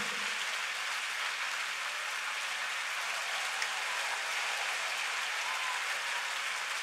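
A church congregation claps during a Sunday worship service, producing a continuous, even wash of applause that holds at a steady level from start to finish with no one speaking.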